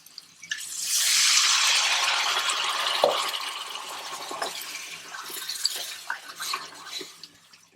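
Water poured from a vessel into a cooking pot of spiced rice mixture with cumin powder, a steady rushing splash that fades into softer trickles and light clinks of the pot, close and alone.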